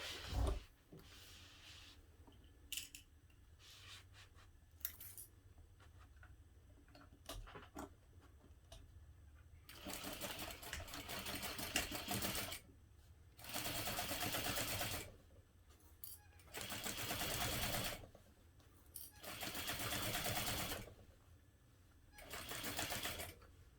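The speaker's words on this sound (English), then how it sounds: "we'll sew this using a 3/8 inch seam allowance." A sewing machine sews a 3/8 inch seam along a backpack zipper, first in short stuttering bursts among handling clicks, then in several longer steady whirring runs separated by brief pauses, close and clear, with no speech.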